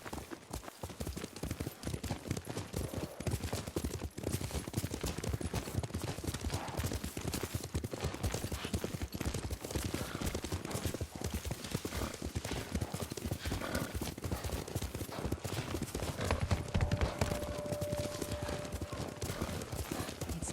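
Steady rapid clip-clop of horse hooves at a gallop in the Ghost of Tsushima video game, running continuously and evenly throughout, with a faint voice briefly heard.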